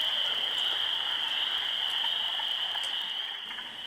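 Wood frogs call during spring breeding, a dense continuous chorus of overlapping clucking croaks that stays loud and steady, fading slightly at the end.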